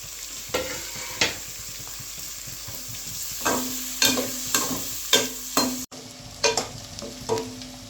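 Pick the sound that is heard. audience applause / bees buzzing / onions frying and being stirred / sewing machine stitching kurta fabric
onions frying and being stirred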